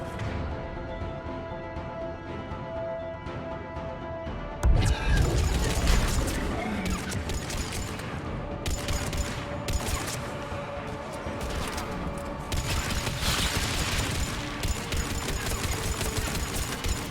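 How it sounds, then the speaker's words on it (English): Grenade blasts and rapid gunfire in a Mass Effect 3 firefight, a sudden crashing explosion followed by dense bursts of shots and impacts over a droning ambient backdrop. "Whoops, they've got grenades."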